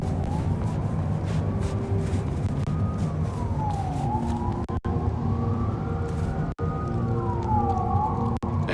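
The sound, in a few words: police sirens in Vampire: The Masquerade Bloodlines 2 video game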